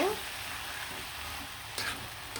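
Masala with added leaves fries in a pan for a rohu fish curry with onion greens, a steady low sizzle with a brief scraping stir near the end, close and fairly quiet.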